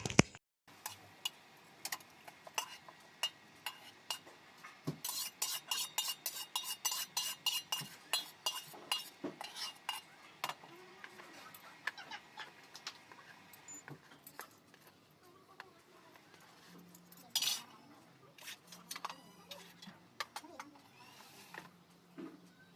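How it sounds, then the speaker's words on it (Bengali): Ladles, spatulas and bowls scrubbed and rinsed after cooking, with scattered metallic clinks and clatters, a stretch of rapid rattling scrubbing, and quieter knocks later, all close by. "রান্নার পরে যে বাসনগুলো জমেছিল হাতা খুন্তি গামলা সেটাও মেজে নিয়েছি"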